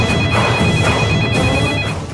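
A phone ringtone rings steadily and loudly for about two seconds, a sustained electronic tone with pulsing repetition in an indoor domestic scene, no one speaking over it.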